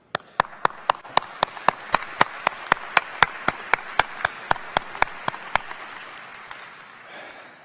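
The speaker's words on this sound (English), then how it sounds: "Please look around for a moment and give yourselves a round of applause." Applause from a medical school graduation audience, a dense steady patter with one loud, evenly paced clapper close by, tapering off near the end.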